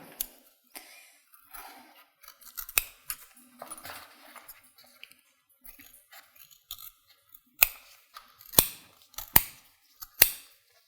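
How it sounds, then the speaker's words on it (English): Scissors cut away the corners of a piece of cork fabric, making sharp, close snips. They are quiet at first, then come as a few louder crisp snips near the end, with light handling noises between them. "So then you can cut away all of the 4 corners just along the marked line that we made."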